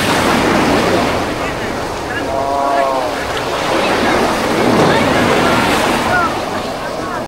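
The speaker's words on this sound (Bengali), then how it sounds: "বিশাল বিশাল ঢেউ।" Big ocean waves breaking on White Beach in the Philippines, a loud continuous roar of surf mixed with strong wind buffeting the microphone, with a voice talking over it.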